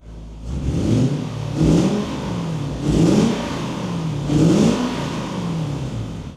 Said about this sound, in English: There's a significant exhaust leak at the manifold.